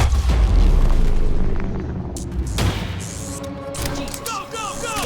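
Gunfire and blasts in the video game Quantum Break during a firefight: a heavy boom opens, followed by sharp, close shots a few seconds later, with voices speaking over the action.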